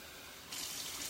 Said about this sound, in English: I'm going to pour the water over top so that water goes inside all the leaves.